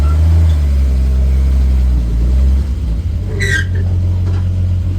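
The engine of a 1954 Metro van with a 3-speed column shift pulls away in first gear: a loud, close, low rumbling idle that shifts in pitch as the van moves off.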